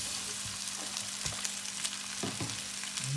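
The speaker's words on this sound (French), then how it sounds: "Je fais fondre le beurre légèrement. Je rajoute le riz." Rice fries in lightly melted butter in a pan, giving a steady close sizzle with a few scraping stirs and no voices.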